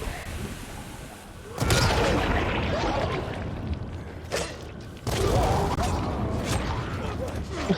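Loud blasts in the Dying Light 2 video game, two sudden broadband bursts rising out of a busy rumbling background and sustaining for a few seconds each, with a sharper crack between them.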